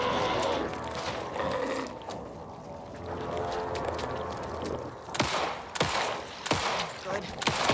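Gunfire in the survival horror video game Alan Wake 2, a series of loud, sharp shots coming irregularly in the later seconds over a dense, rumbling game soundscape.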